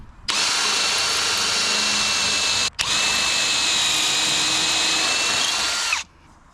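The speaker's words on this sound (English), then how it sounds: "Never used a pocket hole jig before. All I know is you drill holes" A power drill whirs at high speed in two sustained runs, broken by a brief pause, then stops, while drilling pocket holes with a pocket hole jig.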